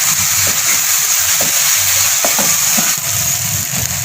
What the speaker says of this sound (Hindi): इसको 1 मिनट तक फ्राई करें।